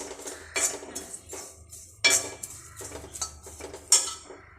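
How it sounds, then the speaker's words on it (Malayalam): Grated coconut roasting over low heat in a pan until brown, heard as a few distinct scrapes and clinks of a metal spoon against the pan, close by, with quiet gaps between strokes. "ഞാൻ തീ കുറച്ച് വെച്ചാണ് തേങ്ങ വറക്കുന്നത്."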